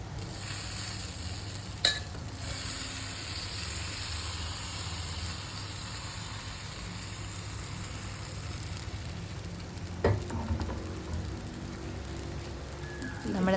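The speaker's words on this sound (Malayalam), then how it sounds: "ചൂടായ പാനിലേക്ക് അപ്പത്തിൻ്റെ മാവ് കോരി ഒഴിച്ച് ചുറ്റിച്ചെടുക്കുക." Appam batter cooks in a hot pan with a faint, steady sizzle throughout, broken by a couple of brief clinks or scrapes as the pan is handled.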